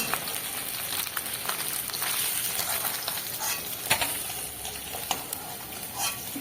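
Small fish fry crisp in hot oil in a village-style kitchen, a steady dense sizzle with occasional pops and stirring scrapes, close and moderately loud with no talk.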